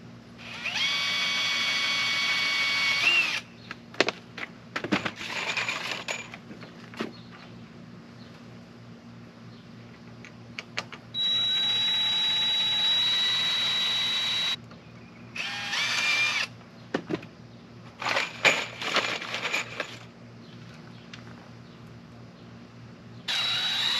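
Power tool trimming bamboo while building an outdoor rain shower, heard in several loud, sustained whining bursts with short pauses between them, and no talking.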